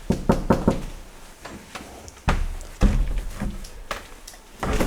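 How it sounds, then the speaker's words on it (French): Someone knocks on a warped door in a retirement home, several clusters of sharp wooden raps spaced irregularly, close and fairly loud. "Essaye de toquer."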